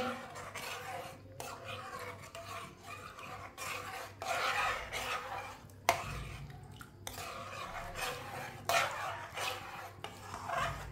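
Fox nuts (makhana) stirred in a pan, giving repeated bursts of rasping and scraping at an uneven pace, close and fairly quiet, with quieter gaps between the strokes.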